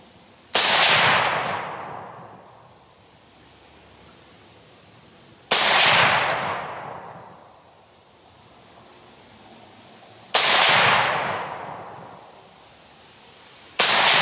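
An Amigo Grande pistol fires single rounds at a slow, even pace, each a sharp loud crack followed by a long decaying echo, with three shots and the start of a fourth.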